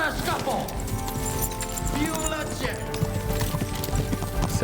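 Video game horse hooves galloping in Kingdom Come: Deliverance 2, a steady clip-clop rhythm running under ongoing voices and game ambience.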